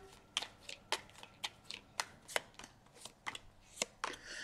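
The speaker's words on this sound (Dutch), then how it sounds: "Dus dan de kaarten schudden om te kijken wat deze week voor de tweeling gaat brengen." Tarot cards being shuffled by hand, a series of crisp, quick riffling snaps and slaps in an uneven rhythm, close and fairly quiet, with no talking.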